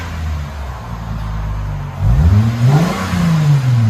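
A Lexus IS 250 with its 2.5L engine and an aftermarket exhaust idles low and steady, then revs sharply twice midway, the note climbing and falling, loud and close with no talk.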